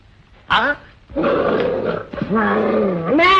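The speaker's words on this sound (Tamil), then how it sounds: "ராஜா, இதுதான் புலி." A tiger roars in a jungle hunting scene from an old Tamil film, with several loud, throaty growling roars in quick succession close to the listener, and voices heard around them.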